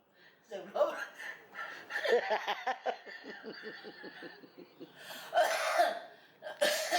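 Someone coughs several times in short, harsh bursts close by in Rarotonga, Cook Islands, with some voiced chatter and chuckling between the coughs.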